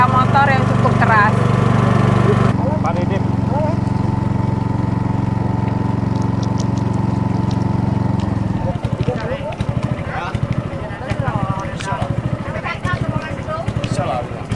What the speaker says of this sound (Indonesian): Walaupun agak-agak berisik karena suara motor yang cukup keras.